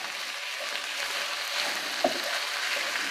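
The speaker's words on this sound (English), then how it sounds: "You hear that sizzle?" Chicken thighs sizzling in a pot for a cheesy broccoli chicken and rice one-pot meal, a faint steady hiss with a small pop near the middle.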